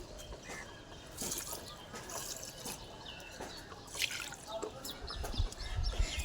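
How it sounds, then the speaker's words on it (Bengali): Leftover rice- and dal-washing water pours and drips into a potted plant, with faint trickling and splashing spread over several seconds, quiet overall, and a rooster or birds calling in the background. "আমি চাল ধোয়া জল আর ডাল ধোয়া জলটা রাখলাম, সেটা একটু গাছের মধ্যে দিয়ে দিই"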